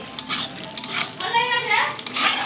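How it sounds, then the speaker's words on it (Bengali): Mixed vegetables are stirred in a wok with a spatula, making several close metallic clanks and scrapes spaced across a couple of seconds over a faint background sizzle. "বন্ধুরা দেখো এই যে এখন সবজিটা আমি নেড়ে নিচ্ছি।"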